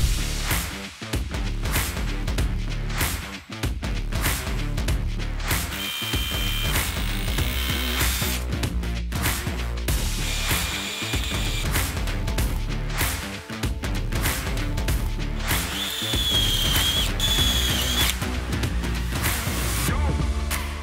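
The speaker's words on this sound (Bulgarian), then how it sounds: "хоризонталните релси прикрепяме с помощта на самонарезни винтове" A power tool drives self-tapping screws into metal fence rails, giving a loud, dense whirring and grinding with ratcheting bursts and short breaks between screws, close up and continuous, with no voices.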